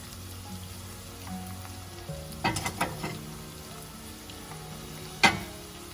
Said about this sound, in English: So now I'll add the tomatoes.